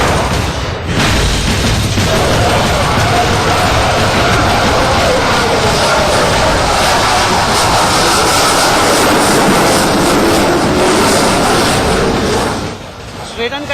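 A Saab Gripen, a single-engine Swedish fighter jet, roars overhead at an air show, a loud continuous jet rumble that swells and holds for about twelve seconds before fading.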